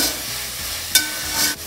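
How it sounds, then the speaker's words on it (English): Peanuts go into softened masala frying in a pan, giving a brief, even sizzle with one sharp knock of spoon on pan partway through, and no voices. "Once it softens, then I add the peanuts"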